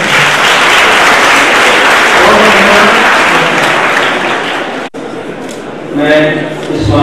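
Students at a college swine flu workshop in India clap loudly in sustained applause. Near the end the clapping thins and a voice comes through over it.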